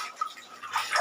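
Very cold water pours from a tap into a filling plastic bag, a soft, faint splashing and gurgling that swells toward the end.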